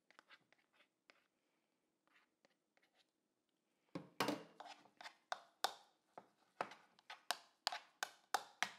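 A spoon stirs vegan mashed potatoes in a bowl: faint scattered taps at first, then a string of louder, rhythmic scraping knocks close by.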